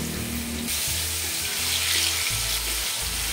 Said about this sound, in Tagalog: umpisa na natin itong prito. Very light na prito lang